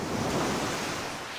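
Ocean waves breaking as a radio drama sound effect, a loud, steady wash of broad rushing surf noise that holds constant and eases slightly toward the end, with no talking.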